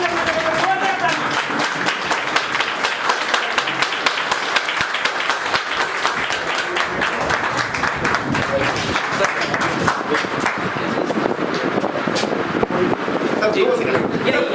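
A standing audience at a field developers' leaders meeting applauds the director, with dense, sustained clapping that stays loud and even for the whole stretch.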